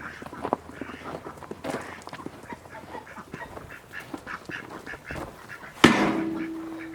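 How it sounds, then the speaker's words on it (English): Ducks and geese on a snowy farm quack and honk in scattered bursts at moderate distance, fairly quiet, ending with a sharp thump followed by a steady hum. "The ducks and the geese definitely don't mind the snow, which is nice."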